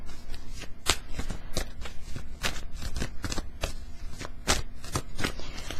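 Tarot cards shuffled for a reading, a run of crisp riffling snaps repeating in an uneven rhythm, close up and fairly quiet against a low background hum.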